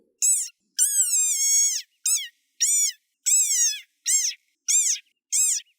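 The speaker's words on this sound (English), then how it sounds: "this is the sonorous war cry of a very angry frog." A series of eight sharp, high squeaky chirps from a desert rain frog, evenly spaced and loud against silence, like a squeezed toy.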